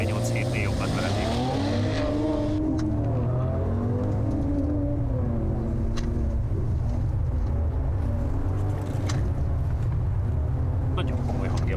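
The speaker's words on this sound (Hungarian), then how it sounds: "ilyen majdnem versenyautó hangja van a távolból" A Skoda Fabia R5 or Mercedes-Benz C43 AMG engine heard from a distance, a revving drone with pitch sweeping up and down like a race car, under steady nearby talk.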